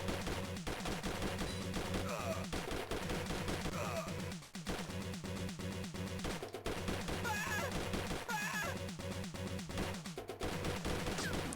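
RoboCop's gunfire in a canceled Game Boy Advance game, heard as dense, rapid chiptune-style shots that keep rattling over a steady game soundtrack with brief pauses.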